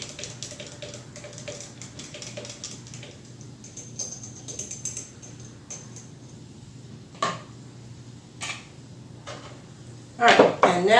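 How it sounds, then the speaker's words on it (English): A watermelon drink is stirred with bamboo skewers, giving light scraping and occasional clinks against the container, with a few louder knocks and a burst of splashing or clattering at the end over background hum. "I just put together some little bamboo skewers like I always do, just to mix it up here."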